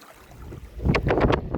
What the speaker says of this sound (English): Yeah, you can hear the air coming out.